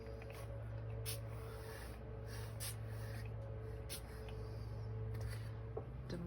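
Ink mist sprayed onto a paper page for a scrapbook layout, heard as a steady soft hiss spanning several seconds with brief bursts, quiet and close, under a faint low hum.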